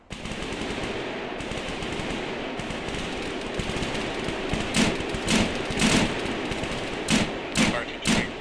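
Gunfire in a military shooter video game, with a steady background rumble broken by several loud bursts of automatic fire over the last few seconds.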